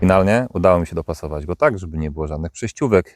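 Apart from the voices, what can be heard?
No distinct noise like a dog, phone or traffic.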